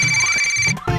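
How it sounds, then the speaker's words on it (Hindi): A phone ringtone plays loud and close, a bright electronic melody with sustained tones that shifts pitch near the end, with no voices over it. "ये मेरी रिंग है।"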